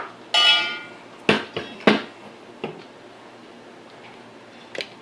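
Two oxygen and fuel gas tanks for soldering are set onto a small stand, giving a scraping rattle and then a few sharp metallic clanks and knocks close by, followed by quiet.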